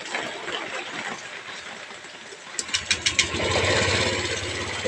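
A car engine with an overheating and check-engine problem idles while warming up: a low, steady rumble with a few quick revving pulses midway, then a fuller, louder drone.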